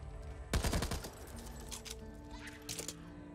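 A rapid burst of machine-gun fire from a Rambo-style weapon in the video game Back 4 Blood, loud and close at first, then trailing into fainter scattered shots and game ambience.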